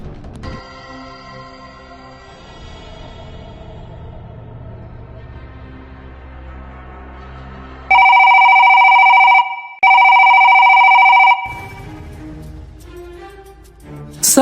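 A telephone rings loudly in two long electronic bursts separated by a short gap, following a stretch of low, tense background music.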